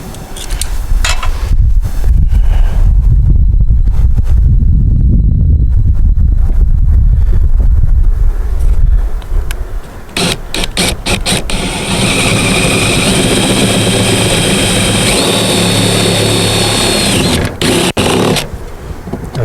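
A power drill bores a half-inch hole through an exterior wall for wiring while installing an outdoor security light. A loud continuous whir runs through most of the clip, with rumbling handling noise in the first half and brief stops near the end.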